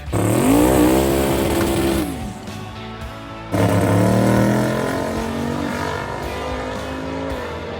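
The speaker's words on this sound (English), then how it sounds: "head to the staging lanes with the Falcon for her to make her first pass" A turbocharged Ford Falcon drag car launches hard from the staging lanes with a trans brake, its engine roaring loud and close, rising in pitch, dropping briefly through a shift, then screaming on at full power.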